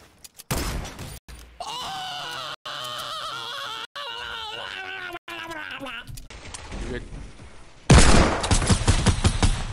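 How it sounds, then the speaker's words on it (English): Fortnite gunfire crackles in dense, sustained bursts, broken by brief gaps, ending in a louder, harsher volley. A voice is also faintly present. "They're shooting at the bottom."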